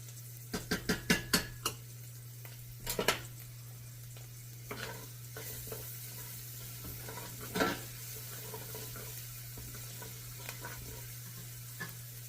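Garlic stirred in a hot pan for beef osso buco, with a cluster of sharp utensil clicks and scrapes early on, a few more scattered later, over a faint steady sizzle and low hum.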